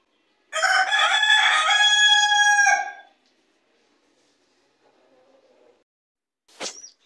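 An Aseel rooster crows loudly and close by for about two and a half seconds, then falls quiet apart from faint low clucking and a brief sharp call near the end.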